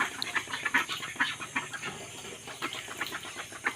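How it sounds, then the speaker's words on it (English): Ducks on a small duck farm in Assam feed busily, giving a continuous chatter of rapid quacks and bill clatter at moderate distance. "This is the duck farm, and the duck are eating"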